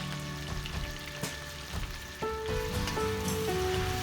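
Spring onion, green chili and ginger garlic paste fry in hot oil in a heated wok, giving a steady, close crackling sizzle that swells louder partway through and keeps on without a break.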